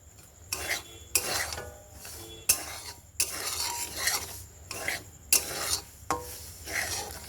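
A spoon scrapes and stirs in a pan while jackfruit halwa fries lightly, giving about eight distinct rasping strokes in bursts separated by brief pauses, close and clear with no talk.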